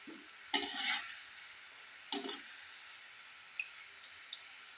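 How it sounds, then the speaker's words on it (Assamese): Flattened rice pitha fries in an oil-filled wok, a soft steady sizzle broken by two bursts of scraping stirring and a few light taps, close by and fairly quiet. "এইদৰে মই গোটেই পিঠাখিনি ভাজি ৰেডি কৰি লওঁ"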